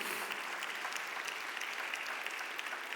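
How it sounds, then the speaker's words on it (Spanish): A church congregation applauds during a sermon, a continuous, fairly faint wash of clapping heard from a distance. "Denle un aplauso fuerte al Señor."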